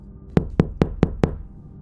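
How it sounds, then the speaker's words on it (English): Five sharp, evenly spaced knocks on a front door, each crisp and fairly loud with a short ringing decay, in an otherwise quiet room. "Then came 3 knocks against the front door."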